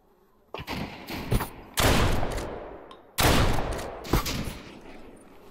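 Gunfire in the video game Deadside: bursts of rapid shots in several loud clusters, with brief quieter gaps between the volleys.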